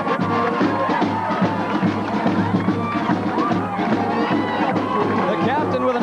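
A huge crowd welcomes the 1993 Maine hockey team and its championship trophy: loud, steady roaring and cheering with a babble of voices, while a commentator speaks over the noise.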